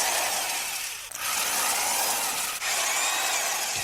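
A power drill whirs loudly and steadily, played for a radio call-in game, with two brief dips where the motor eases off before spinning back up, no voices over it.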